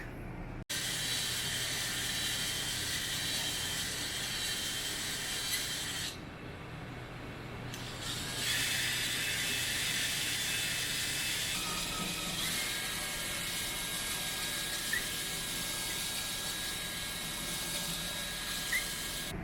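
A continuous high, hissing whir of a power drill honing the metal cylinders of a Triumph engine, steady and close throughout with a brief dip partway through.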